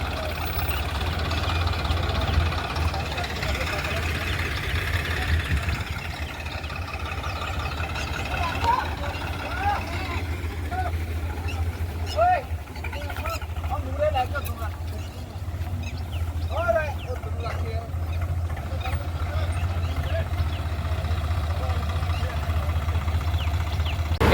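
Swaraj 969 CRDI 4x4 tractor straining to pull a stuck straw trolley, its diesel engine holding a steady low rumble throughout, with people talking over the continuous drone.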